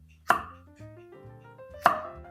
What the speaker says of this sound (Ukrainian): І тепер нам треба нарізати його такими крупними шматками ось такого розміру.